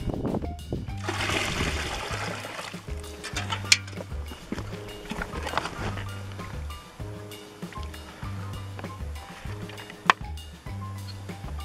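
Water gushes and splashes into a cooking pot during preparation of wheat mote, a loud pour at the start that eases into sloshing, with rhythmic rumbling and occasional clanks throughout.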